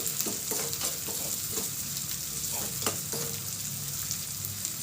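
Pepper seeds sizzle and crackle steadily while frying in a pan, a continuous close hiss with scattered small pops and no voices.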